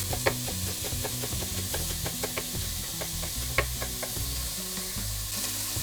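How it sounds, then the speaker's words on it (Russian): Onion and vegetables fry in a pan with a constant sizzle, while a spoon stirring against the pan adds repeated close knocks and scrapes. "Тушим минут 5 все это вместе, помешивая."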